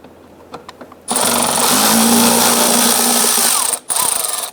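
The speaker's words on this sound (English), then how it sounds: "on the back side, there's going to be 2 T20 Torx bits. Let's go ahead and loosen and remove those." A power driver loosens T20 Torx screws on the fog light of a 2005-2010 Chrysler 300, a loud close whirring burst of about three seconds after a few light clicks, a brief pause, then another short spin.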